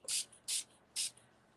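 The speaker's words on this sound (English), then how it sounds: "Spray it with water." Three short bursts of a hand spray bottle misting water onto old book pages for collage paper, close and fairly quiet, evenly spaced with brief pauses.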